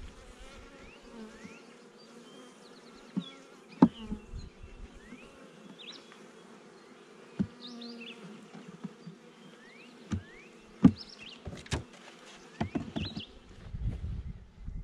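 Honeybees buzzing around a hive as it is relocated, a steady low drone close by with scattered louder fly-bys, faint clicks and knocks, and a brief rumble of handling at the end.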